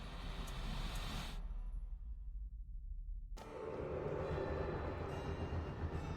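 A moving train in the video game Alice: Madness Returns rolls on with a continuous heavy low rumble and rushing noise, its hiss briefly cutting out for a couple of seconds before surging back fuller.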